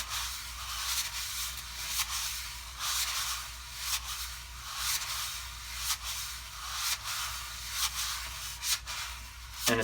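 Drum brushes sweep in the circular stirring-the-soup pattern, a soft, continuous swishing with gentle rhythmic accents, faint and close against a low hum.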